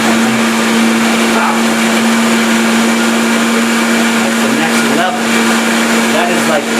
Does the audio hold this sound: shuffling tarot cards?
no